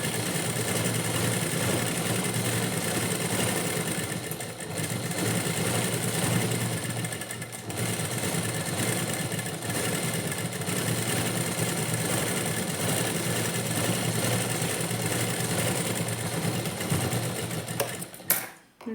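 A sewing machine stitches the lining of a blouse back piece, running steadily with a continuous whirring motor hum for almost the whole stretch before stopping abruptly at the end.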